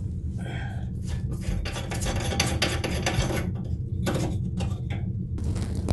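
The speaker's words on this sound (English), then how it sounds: "let's take off the drain" A vanity sink drain trap is disconnected by hand, giving close, continuous clattering, scraping and rubbing of pipe fittings, with no talking.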